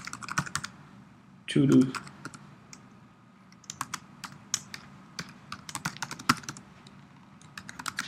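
Computer keyboard typing in irregular bursts of close, crisp key clicks during a web-coding session, with a voice speaking briefly partway through.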